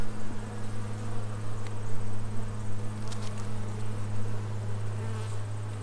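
Honey bees buzzing around a hive frame of honey, nectar and brood during a hive inspection, a steady close drone with a strong low hum, a few faint clicks and handling noises, no speech.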